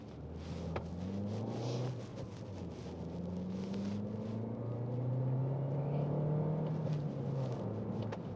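A 2022 Toyota Corolla Hatch with a 6-speed manual pulls up a highway ramp, its engine droning steadily with rising pitch as it accelerates through a gear, heard from inside the car with no talk.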